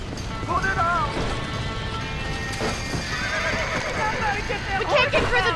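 In the Red Dead Redemption video game, a horse trapped in a burning barn whinnies repeatedly in shrill, wavering cries. Hooves clatter and something crashes underneath, with shouting voices mixed in.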